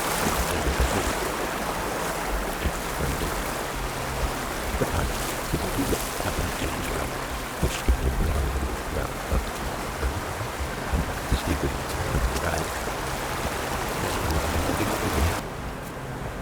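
Someone wades through a stream, a constant rushing of flowing water with irregular splashing and sloshing close by, continuous throughout.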